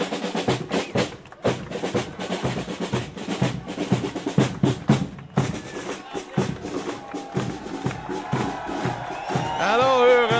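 Crowd in Melick welcoming the OLS winners, with rhythmic clapping, chanting and cheering in dense bursts, plus a voice speaking over it near the end.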